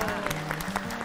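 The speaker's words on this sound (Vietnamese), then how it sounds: "Vỗ tay," Studio audience applause on a television dating show, dense close clapping with a few sharper claps standing out, over background music.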